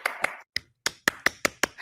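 A few sharp hand claps in a short uneven series, close and distinct, with brief gaps between them and no talking.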